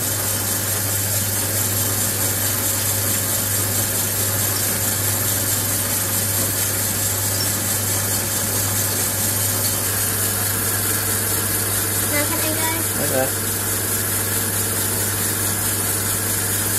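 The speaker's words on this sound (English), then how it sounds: "So this is a 7mm drill" A steady motor whine of a 7mm drill boring into wood for a pen blank, continuous and fairly loud, with a brief change in tone near the end.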